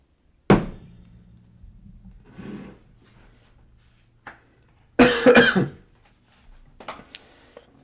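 A single sharp cough up close, followed by a few quieter throat sounds and a second harsh burst of coughing a few seconds later.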